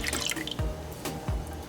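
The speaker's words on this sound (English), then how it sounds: "So first I'm going to add in my soy sauce." Liquid drips and splashes in short, distinct plops as soy sauce is poured for a beef teriyaki sauce, a few clear drops standing out over a faint kitchen hum.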